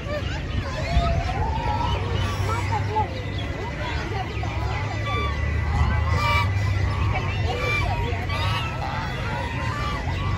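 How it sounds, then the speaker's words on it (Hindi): Ducks honking and quacking in a busy zoo enclosure, a steady mass of calls over crowd chatter and people talking nearby. "ये इतनी सारी डक्स हैं"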